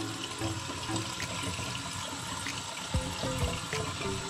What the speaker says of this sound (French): On laisse couler l'eau hein, gentiment.